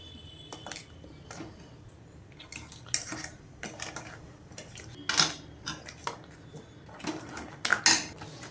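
While crab cooks, a metal pot and lid clatter and clink in scattered bursts, quiet between sharp knocks, the loudest hits coming near the end.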